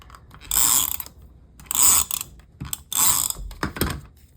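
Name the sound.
tape runner applying adhesive to attach card back piece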